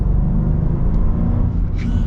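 A Land Rover Defender with a supercharged V8 accelerates, its engine a loud, steady low rumble heard from inside the cabin, with a faint brief whine near the end.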